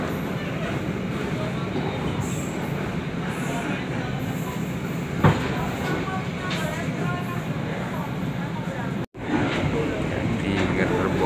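A passenger train on the Pangrango line rumbles along steadily inside a carriage, a continuous low roar with occasional clanks and a brief dropout.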